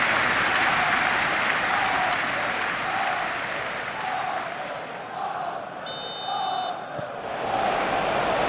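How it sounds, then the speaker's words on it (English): A referee's whistle shrills for about a second at a Premier League football match between Arsenal and Fulham, sharp and clear over a loud, roaring stadium crowd that keeps up a steady cheer. "The whistle."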